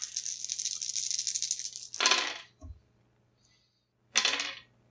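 Dice rolled during a tabletop role-playing game session: a long clattering rattle, then two sharp bursts of dice tumbling and settling, close and loud with no talking.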